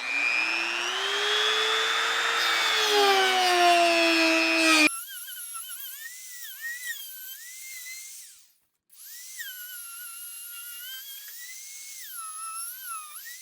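A power tool cuts an oval hole in a Native Watercraft Hammer 12 kayak to fit a bow trolling motor. A loud, steady high-pitched whine runs for about five seconds and then stops, followed by quieter, wavering tool tones.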